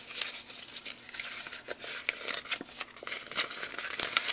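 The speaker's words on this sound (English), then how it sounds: "I'm going to get this nice and wet, and I'm going to crumple it." Wet Crumb Cake cardstock being crumpled by hand, giving close, continuous crinkling and crackling with sharp papery snaps throughout.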